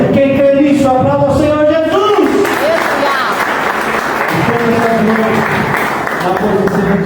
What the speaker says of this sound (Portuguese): Quem crê nisso, aplauda o Senhor Jesus.